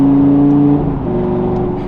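An old-school Lamborghini with an E-gear transmission pulls hard, its engine giving a steady droning tone that drops in pitch briefly after a gear change, then keeps a loud, continuous hum.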